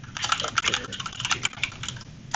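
Close, quick typing on a computer keyboard with irregular bursts of clicking keystrokes and brief pauses, while a programmer works on code.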